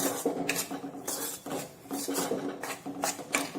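Whole green mung beans with skins roast in a pan over a low flame, stirred with a spatula in repeated scraping, rasping strokes that rise and fade in a steady rhythm, close up.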